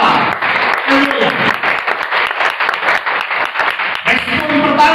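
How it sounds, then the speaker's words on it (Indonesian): A church congregation bursts into loud, sustained applause, dense clapping filling the space for several seconds with a brief dip near the end. "Tepuk tangan dulu untuk firman Allah."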